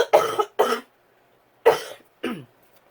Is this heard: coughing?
yes